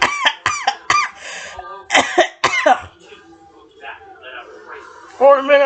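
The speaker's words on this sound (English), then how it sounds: "I'm trying to recover from my cough." Harsh coughing fits from a man playing the game Doki Doki Literature Club, several sharp, raspy bursts in quick succession, then quieter throaty rasps and a final loud burst.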